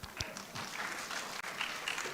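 Audience applause at a reparations forum, a short stretch of steady, fairly faint clapping from a crowd, heard alone.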